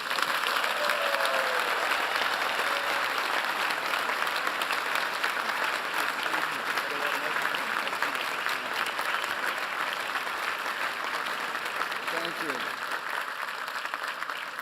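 Sustained applause from a large audience welcoming Steven Spielberg at Harvard, a dense steady wash of clapping that holds for the whole stretch with little rise or fall.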